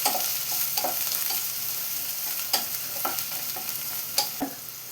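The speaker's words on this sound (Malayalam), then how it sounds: "ഇപ്പോൾ ഒരു പാൻ വെച്ച് 2 ടേബിൾ സ്പൂൺ വെളിച്ചെണ്ണ ഒഴിച്ച് കൊടുത്തിട്ടുണ്ട്. ഇതിലോട്ട് 2 സവാള ചോപ്പ് ചെയ്ത് വെച്ചത് ചേർത്ത് കൊടുക്കാം." Two chopped medium onions fry in coconut oil in a pan, a soft continuous sizzle near and clear, broken by several sharp spatula stirs and scrapes against the metal.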